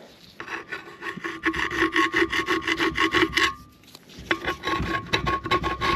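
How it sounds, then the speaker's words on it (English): Scraping burrs off the inside of a 2007 Toyota Yaris wheel rim with an improvised scraper, producing a close, rhythmic rasping in quick back-and-forth strokes with a brief pause midway. "took it and scraped used that as a scraper, scraped off the bars on the inside"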